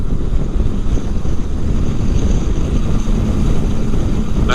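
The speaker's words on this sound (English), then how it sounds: "That wind is not helping." Wind buffets the microphone loudly and steadily on a motorcycle ride near a wildfire on Sauratown Mountain, North Carolina, a broad constant roar with no voices.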